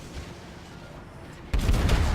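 Heavy naval shell impacts and gunfire in the World of Warships game, a loud booming burst breaking in sharply after a quieter stretch of low rumble.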